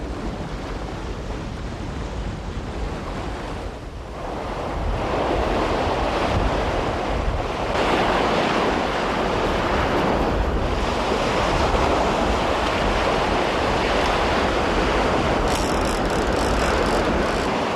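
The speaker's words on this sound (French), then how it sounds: "là vraiment il y a trop de vent" Strong coastal wind roars over breaking surf at a surfcasting fishing spot, a steady loud rush of waves and gusts buffeting the microphone throughout, swelling after a brief lull.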